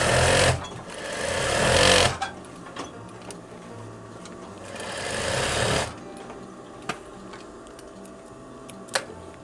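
A sewing machine stitches around the collar of a veterinary coverall in two loud, close runs, with ticking clicks and quieter handling sounds in the pauses.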